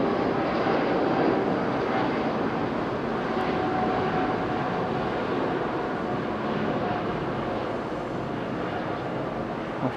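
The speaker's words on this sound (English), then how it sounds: "Just so graceful, these aircraft, A350 in particular." Aircraft engine roar at Okinawa airport, with an Airbus A350 nearby, comes as a loud, steady broadband rumble that holds for the full stretch without a break.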